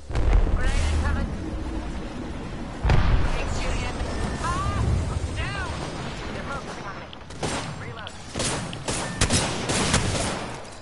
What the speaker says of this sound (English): Grenade coming.